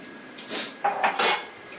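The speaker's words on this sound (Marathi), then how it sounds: "मग मी भांडी भांडी आवरून घेते" A few short clinks and clatters of dishes being stacked and moved, close by, in quick bursts with brief pauses between.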